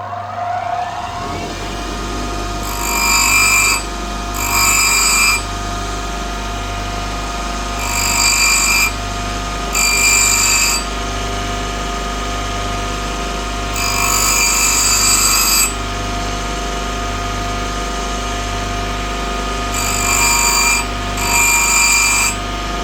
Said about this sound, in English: Let's get that bloody drill bit sharpened up.